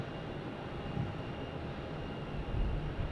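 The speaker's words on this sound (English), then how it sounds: "We check out that 737 MAX 8." Boeing 737 MAX 8 at Phoenix Sky Harbor airport: a steady broadband jet roar holds throughout, swelling a little near the end, with no voices over it.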